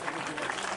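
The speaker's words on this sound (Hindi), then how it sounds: "जोर से तालियां।" Loud applause from a devotional gathering as a silver crown is placed on the guru, steady dense clapping filling the moment with voices mixed in.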